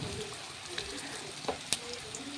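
Chopped onion sizzles steadily in hot oil, with faint scraping from stirring and a couple of sharp utensil taps close by.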